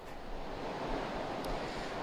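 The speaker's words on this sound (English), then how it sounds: "Still very windy conditions." Strong hurricane wind from Hurricane Helene gusts steadily in downtown St. Petersburg, Florida, a loud, continuous roar and buffeting rush across the microphone with no let-up.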